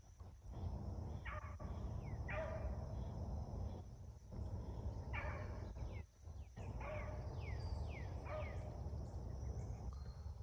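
A beagle bays and barks while chasing a rabbit through muggy summer woods on a hot day near 97 degrees, its repeated yelps carrying from a short distance over steady insect buzz.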